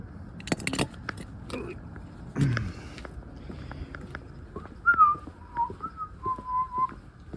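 A person working on a Dodge Ram pickup's control arms makes a few thin, wavering whistle attempts after some clunks and shuffling, faint and broken into short pieces.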